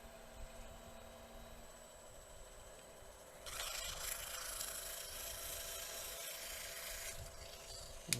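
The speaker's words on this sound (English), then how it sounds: "we'll just go straight in with the sandpaper" Coarse-grit sandpaper rubbing along a wooden wand, a steady close rasping wash that begins partway through after a quiet stretch and runs without pause to near the end.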